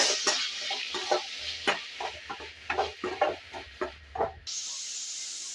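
Vegetables with salt frying in oil in a pan for cauliflower fried rice: a steady soft sizzle under repeated scraping and stirring clatter from a utensil, close by.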